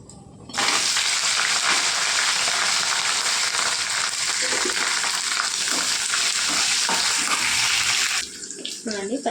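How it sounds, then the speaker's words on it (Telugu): Green chillies dropped into hot oil with urad dal burst into a loud, sustained crackling sizzle that holds steady for about eight seconds before easing, with a voice briefly audible at the end. "ఇప్పుడు మనం ఇందులో పచ్చిమిరపకాయలు వేసుకుందాం"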